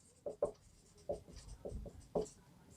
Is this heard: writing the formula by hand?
yes